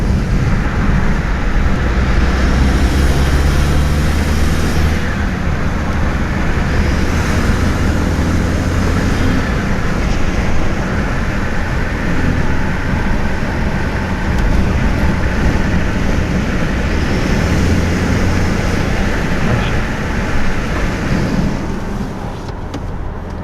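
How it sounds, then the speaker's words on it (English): An F30 BMW 330i with a performance intake, cruising in fifth or sixth gear under light throttle as boost builds: a steady, continuous engine rumble with road and wind drone, heard from inside the car without talk. "you get the most noise when you have the car on 5th or 6th gear and just slowly give it gas, and you hear the boost build up"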